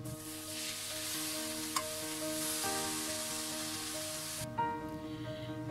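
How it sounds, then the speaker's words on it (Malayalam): Ash gourd peel thoran stir-fried in a pan, a steady loud sizzle with occasional stirring scrapes and clinks throughout, no talking. "1 മിനിറ്റ് അങ്ങ് ഇളക്കി കൊടുക്കാം."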